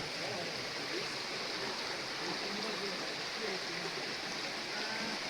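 Waterfall stream rushing on the Kudremukh trek in Karnataka, a steady broadband roar of flowing water close by, continuous throughout with no clear talk.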